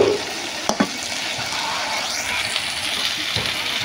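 Eggplant fries in a little oil in a pan for a Bangladeshi dish, giving a loud, steady sizzle close by with a couple of brief clanks of stirring near the start.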